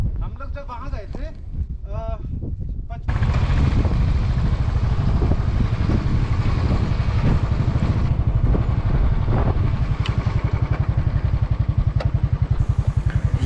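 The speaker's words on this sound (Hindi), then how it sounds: "ये ऑफ रोडिंग करने के लिए बाइक मेन रोड से ना जाके शॉर्टकट से जा रहे हैं" A motorbike rides off-road on a rough shortcut in the Nubra Valley, Ladakh, its engine droning steadily with rattling and wind buffeting the microphone after a short stretch of talk at the start.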